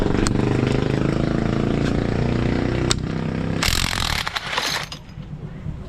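An impact wrench fitted with a 17 mm socket works on a Honda Beat FI scooter, its dense buzzing rattle running steadily up close, then a harsher broadband burst near the end as the fastener breaks loose.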